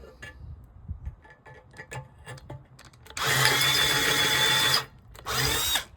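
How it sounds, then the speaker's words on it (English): Faint clicks and ticks, then a power drill whirs loudly for about a second and a half drilling a pilot hole for a mailbox door screw, stops briefly, and spins up again. "Once you drill your pilot hole"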